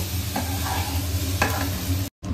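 Maggi noodles stirred with masala in a frying pan at home, a steady soft sizzle with a few scraping strokes of the spatula, close and continuous, ending in a brief dropout.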